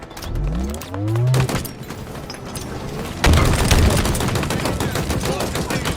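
Halo Infinite multiplayer combat: a booming grenade blast with a falling rumble, then dense rapid gunfire crackling loudly and continuously close by, with no talk.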